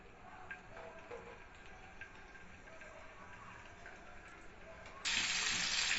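Pieces of boal fish dropped into three tablespoons of hot oil in a pan set off a sudden loud, dense sizzle after quiet kitchen clatter, holding steady as the fish fries.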